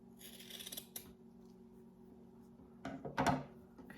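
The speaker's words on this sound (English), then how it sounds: "I am going to cut my ribbon into like equal lengths here" Scissors snip through folded craft ribbon, cutting it into equal lengths for a layered bow; a couple of short, close crisp cuts with quiet pauses between them.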